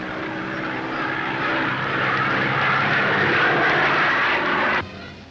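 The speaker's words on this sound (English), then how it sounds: "Dr. Dorothy Herbert from Queensland takes off in one of the 7 aircraft commanded by women pilots" A light propeller aircraft in a 1964 women's air race departs, its engine a loud, close, steady drone that builds and then cuts off abruptly near the end, with no talk.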